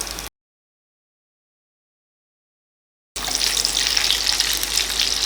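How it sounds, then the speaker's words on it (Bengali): Drumstick pieces frying with ginger paste in a pan for shukto, a steady, close sizzling hiss that starts after a stretch of silence and continues alone to the end. "আদা বাটাটা হালকা ভাজা হয়ে আসলে এর মধ্যে সজনে ডাঁটাগুলো দিয়ে দেব।"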